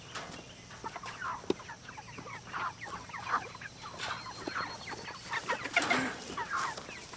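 Chickens on a farm cluck in a busy, overlapping chorus during a morning feeding routine, with repeated close squawks and clucks rising and falling over a steady outdoor background.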